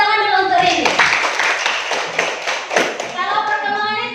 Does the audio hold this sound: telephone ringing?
no